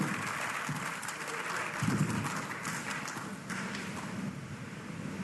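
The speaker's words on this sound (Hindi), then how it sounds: "तालियां सब कुछ बोल देती है" Sustained applause from an audience at a public assembly after a speech, a dense, steady wash of clapping lasting throughout with a faint voice underneath.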